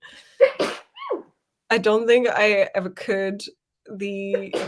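A single sharp sneeze bursts out near the start during a casual online writing-sprint chat, followed by people talking closely.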